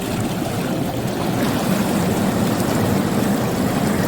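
Balboa swim spa jacuzzi jets running, a loud, continuous, close rush of churning water with a steady low rumble and no pauses or voices.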